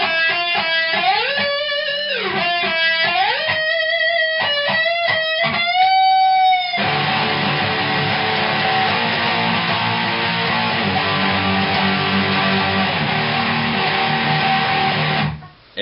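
Electric guitar playing the main riff, starting with a run of clear picked melodic notes and then switching to a dense, sustained chugging passage for most of the clip, loud and alone with no talking, cutting off at the end.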